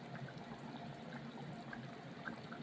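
Rinse water from washed fish is poured into a South Indian fish curry thickened with ground coconut and Kashmiri chilli paste, making a steady, close-up splashing pour with no talk.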